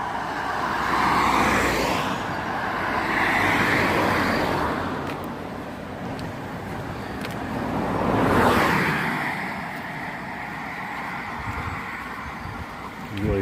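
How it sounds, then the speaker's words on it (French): Cars pass on a road right beside people walking a pilgrimage route, two loud whooshing swells rising and fading over a steady traffic rumble, close by. "Toujours les voitures à côté de nous."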